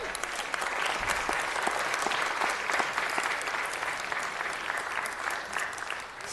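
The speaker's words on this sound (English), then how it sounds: "I think that deserves a big round of applause." An audience at a city council meeting applauds the school athletic teams for winning four city titles, a steady, dense round of clapping that fills the room at full strength and holds without pause throughout.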